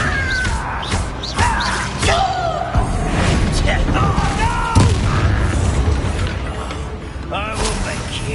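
A Bombarda explosion spell goes off in the Hogwarts Legacy video game, a booming blast amid busy combat effects with voices talking and shouting over the fight.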